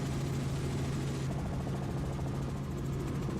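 Steady low thudding rotor drone of a sightseeing helicopter in flight over Purnululu's Bungle Bungle Range, constant and fairly close, with a rhythmic chop beneath the engine roar.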